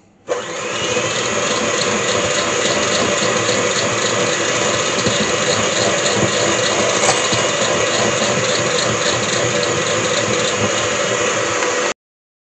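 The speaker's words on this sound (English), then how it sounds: "now I'm going to mix again" Electric mixer beating butter and sugar for Bakewell tart batter, a loud continuous motor whirr with a faint rattling rhythm that starts abruptly, holds steady for about eleven seconds, then cuts off sharply.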